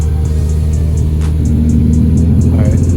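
An Infiniti G35 engine, freshly fitted with GTR injectors, runs steadily at close range with a constant low droning idle that rises slightly partway through, with faint voices in the background.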